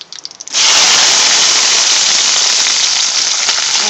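Onions dropped into hot oil with spices in a pan, bursting into a sudden loud, bright sizzle that holds steady and close after a few faint clinks.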